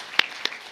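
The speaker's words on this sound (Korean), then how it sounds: "함께 우리 큰 손뼉으로 찬양하고" Hands clap in praise during a Korean Christmas church service, three crisp, evenly spaced claps sounding close and bright.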